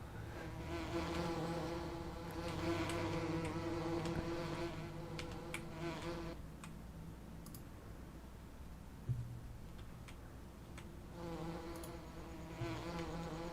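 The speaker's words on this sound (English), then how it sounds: "look at them bees go" Bees buzz steadily in the Farming Simulator 17 video game, a dense insect drone with scattered clicks, louder at first, then thinning and swelling again near the end.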